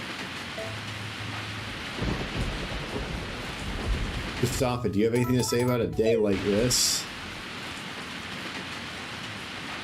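Steady heavy rain pours throughout a rainy day in the farming video game Story of Seasons: A Wonderful Life, a constant hiss under game music and a character's speech.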